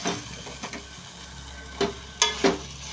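Green chillies and fried cashews stirred into masala in a pan give off a soft, steady sizzle, with a few sharp scraping clinks of the spoon against the pan.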